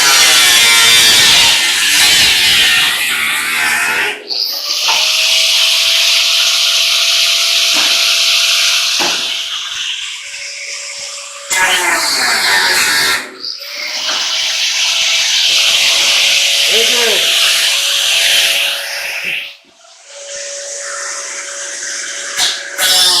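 A 4.5-inch angle grinder with a cutoff wheel bites into aluminum on a scrapped refrigeration unit, giving loud high-pitched screaming cuts in several long bursts, with the motor whining and briefly spinning down between passes.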